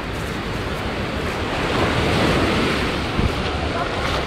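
Surf washes steadily onto a small beach at Prainhas do Pontal do Atalaia in Arraial do Cabo, a loud continuous roar of breaking waves mixed with wind against the microphone, and no voices.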